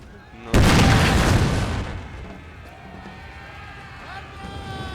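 In the video game Napoleon Total War, artillery fires canister shot in one loud boom that rings out and decays over about a second, followed by quieter battle noise in the background.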